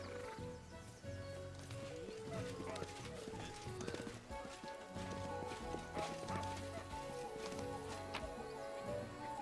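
Horse hooves clip-clop in the fantasy video game Pathfinder: Wrath of the Righteous, a rhythmic trotting running under steady game music, with a voice speaking over it.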